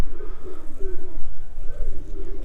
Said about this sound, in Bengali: যেই কবুতরগুলোর কাছে বাচ্চা আছে সেই কবুতরগুলো সব বাইরে চলে এসছে